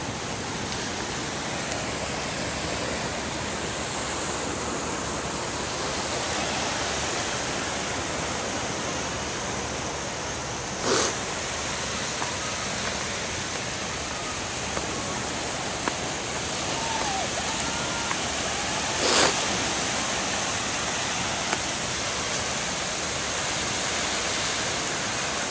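Sea surf on a cold day, a steady broadband roar of waves washing continuously, loud and close, with a couple of brief sharp clicks and faint voices in the background.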